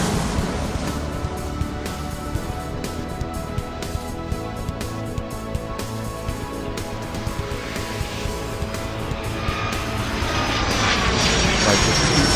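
In the Airport Madness 3 game, an airplane takes off from runway 36 with a steady, loud engine roar that swells toward the end, mixed with scattered game clicks.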